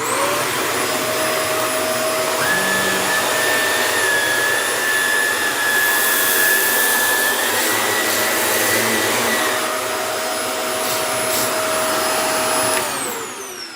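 Shark Navigator Lift Away upright vacuum cleaner sucking up oatmeal, a loud steady whine with a high motor tone that shifts pitch briefly and then winds down at the end.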